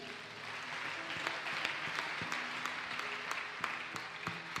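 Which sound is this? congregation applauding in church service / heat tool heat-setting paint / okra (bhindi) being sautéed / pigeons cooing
congregation applauding in church service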